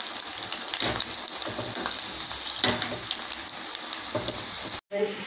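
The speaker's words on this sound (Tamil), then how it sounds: "சலசலன்னு சவுண்ட் கேக்குது" Food frying in a pan gives off a loud, continuous sizzle and crackle that runs without a break for several seconds, then cuts off briefly near the end.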